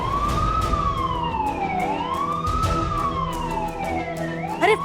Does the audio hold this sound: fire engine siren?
yes